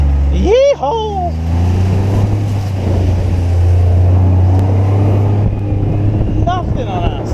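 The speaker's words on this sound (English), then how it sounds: "This Kawasaki mule, it's a Kawasaki Mule Pro FXT." A Kawasaki Mule Pro FXT utility vehicle with a second row of benches drives around a cattle ranch, giving off a loud, steady low engine drone with rumbling and rattling, and a voice whoops briefly over it near the start and end.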